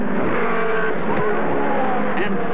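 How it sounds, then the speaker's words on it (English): Race cars at a 1965 oval race at Nazareth, Pennsylvania, crashing on the number three turn: loud engine roar with tire skidding and a brief squeal, close and continuous throughout. "A crash on the number three turn."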